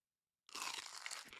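Someone bites into a crunchy potato-coated corn dog, a sudden loud, close crackling crunch that follows a short silence and continues as a dense crisp chewing.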